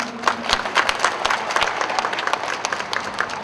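Audience applause at a Kaohsiung volunteer firefighters' review and competition carnival, a dense, steady clapping from a crowd lasting throughout.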